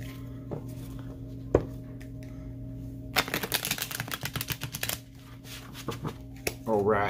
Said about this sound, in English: I'm gonna do one more shuffle time